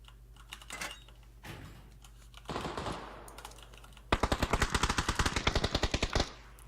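Gunfire in a first-person shooter video game, with scattered shots followed by a rapid sustained burst of automatic fire.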